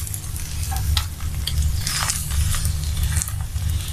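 Spicy egg patishapta frying in hot oil in a pan, a close, loud continuous sizzle with scattered crackles and a few scraping clinks as it is turned over.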